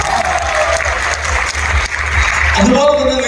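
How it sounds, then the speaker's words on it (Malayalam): An audience claps for Latha madam at a stage function, a dense, steady round of applause running the whole time and swelling slightly near the end, with a voice faintly audible beneath it. "ലതാ മേഡത്തിന് ഒരു നല്ല കൈയടി."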